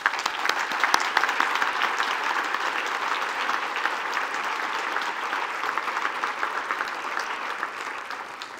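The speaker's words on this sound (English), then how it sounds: "Let's give him a round of applause." An audience at a faculty and staff convocation claps steadily for several seconds, a dense even wash of applause that fades slightly toward the end.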